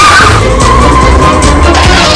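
Car chase scene in a Hindi comedy film, with loud, sustained tire skidding and squealing over a roaring engine, close and dominant throughout, with no talking.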